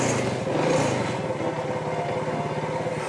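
A small moped engine runs with a steady, rapid low putter, loud and close, with no voices.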